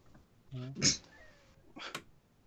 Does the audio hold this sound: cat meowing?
yes